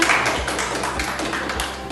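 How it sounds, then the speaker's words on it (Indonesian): Students in a classroom give a short burst of clapping, a quick patter of hands lasting under two seconds, fairly close and with no talk over it. "Tepuk tangan semuanya."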